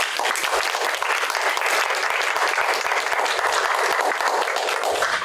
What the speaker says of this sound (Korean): 여러분 큰 박수로 맞이해주시죠